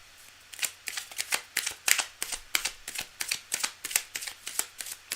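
A deck of tarot cards is riffled again and again, close and crisp, in a steady run of about fifteen quick ruffling bursts with short gaps between them.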